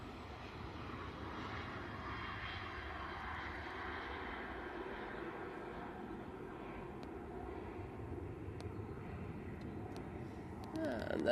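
A KLM airliner passing at Manchester Airport, its steady broadband engine roar sustained at moderate distance throughout, swelling slightly at the end.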